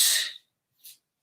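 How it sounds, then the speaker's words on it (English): Exaggerated breath out during a strength workout while rolling to the side, a sharp close forceful exhale fading after a fraction of a second, then a brief faint puff of air. "I'm making my breathing really exaggerated so that you can hear that I'm breathing out as I roll to the side."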